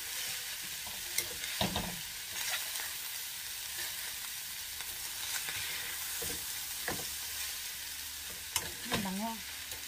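Ground beef cooking with garlic and onion in a pan, a continuous sizzle with occasional scraping stirs and clinks of a utensil throughout.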